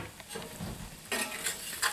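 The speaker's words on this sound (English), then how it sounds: "Gonna let that sizzle a minute and come back." Chicken sizzles in a pan with a steady crackling hiss, joined by a couple of brief scraping clinks of a utensil near the end.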